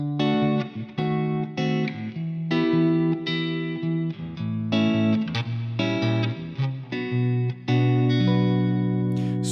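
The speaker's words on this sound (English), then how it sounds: "if I play the whole progression with the diminished chords added" A guitar chord progression with added diminished chords, each chord strummed and held a moment before the next, played alone with an effects-coloured, slightly driven tone.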